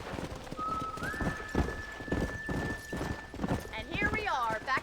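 Horse hooves clip-clop steadily as a rider moves along in Red Dead Redemption, mid-distance beneath a voice calling out and a long whistle-like tone.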